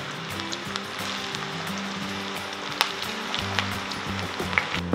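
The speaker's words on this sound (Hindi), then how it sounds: "तेल हमारा अच्छा गर्म हो चुका है तो हम इसमें परवल डाल लेते हैं।" Quartered pointed gourd (parval) frying in hot oil over high flame, a close, continuous crackling sizzle with occasional sharper pops and faint stirring.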